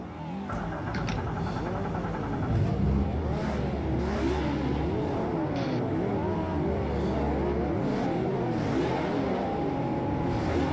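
DTM race cars from 1992 in the Automobilista 2 racing game rev and accelerate at a race start, several engines howling and rising in pitch through repeated gear changes, loud and close, with a brief low clutch-held drone early on.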